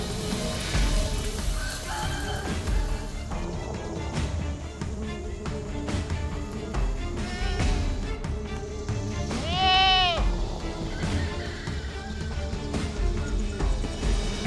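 Goats on a homestead bleat repeatedly near a paddock being fenced, one loud wavering call standing out midway over a busy background of other farm animals and rustling.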